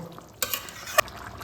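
A spoon stirs chicken curry in a pan just after water has been added, with two brief scraping clacks against the pan over a soft, quiet background.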